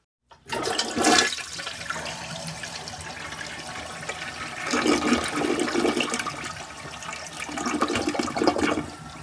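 A toilet flushes in a bathroom, a loud rushing swirl of water that starts abruptly, surges and recedes, then surges again near the end as the tank refills, with no talking.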